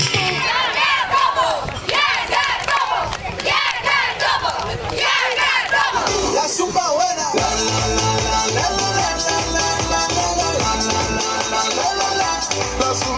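A crowd at an inter-village competition in Wiślinka loudly cheers and shouts for the Czeplewo team, a tug-of-war side, in dense continuous noise that gives way midway to loud music with a steady beat.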